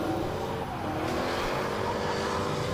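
A drift car at the Three Sisters circuit during British Drift Championship qualifying roars continuously on full power down the fast section, loud sustained engine noise with tyre noise underneath.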